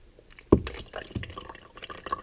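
Slushy, crystallizing liquid is poured in a short test pour, giving a sudden wet splat followed by soft drips and sloshing that trail off quietly with no talk.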